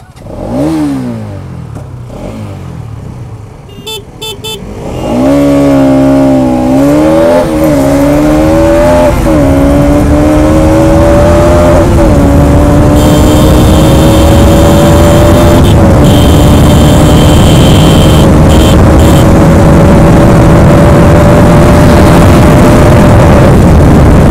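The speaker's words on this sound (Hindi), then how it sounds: "तो भाई अभी करते रेस" A KTM Duke 390 and a Bajaj NS 200 motorcycle in a drag race, engines revving and climbing loud and close through rising gears, the whine sustained for most of the run after a quieter start.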